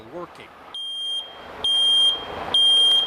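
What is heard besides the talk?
smoke detector alarm beeping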